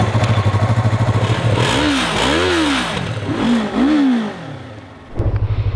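A Yamaha MT-03 motorcycle idles with a steady pulsing throb, then revs up through rising, falling gear changes as it rides off nearby, and settles back to a loud idle at the end.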